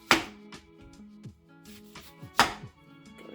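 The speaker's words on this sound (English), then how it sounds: "I'm going to start by slicing the ends off of these lemons" Kitchen knife slicing the ends off lemons on a cutting board, two sharp close chops with lighter knocks between them, set against a soft background hum.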